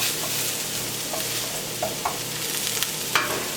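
Pot pie vegetables sauté in olive oil while being stirred around the pan. A steady, fairly quiet sizzle runs throughout, with a few light clicks and scrapes from the spoon and no talking.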